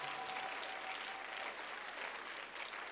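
A church congregation claps their hands together in a dense, even burst of applause that holds steady throughout, with no one speaking over it.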